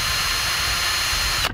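A power drill bores through the electronics inside a Tony Hawk Ride skateboard controller for the Nintendo Wii, giving a steady, loud, close whine that runs without a break and cuts off abruptly at the end.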